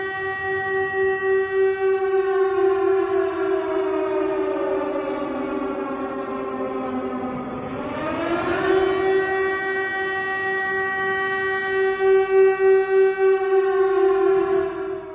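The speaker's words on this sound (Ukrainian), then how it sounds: "студенти та викладачі відпрацювали порядок дій при звуках сирени" A loud air raid siren wails on and on during a college safety drill, its pitch sliding down and rising again in a long, mournful sweep.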